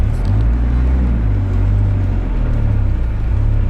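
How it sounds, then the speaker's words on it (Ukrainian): Loud low engine rumble from inside a GAZelle van driving through a city centre with a burnt-out muffler, steady droning with slight swells as the revs shift. "Ми їдемо по самому центру рівного. А чого? Бо ми на газелі."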